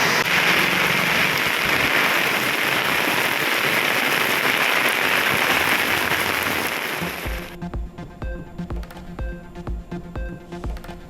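Heavy rain pours onto roads in a dense, loud, continuous roar for most of the time, then gives way abruptly to a sparser, choppier patter of drips and splashes.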